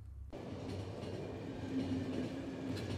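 A train rumbles along steadily in the post-apocalyptic video game The Final Station, a continuous rolling drone with faint rhythmic clatter that starts abruptly after a brief moment of near silence.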